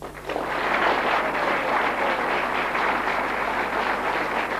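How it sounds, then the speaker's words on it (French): Audience applause at a French prize event, a steady dense wash of many hands clapping that swells in quickly and holds loud and even throughout, with no voices over it. "Nous allons aussi profiter de ces applaudissements"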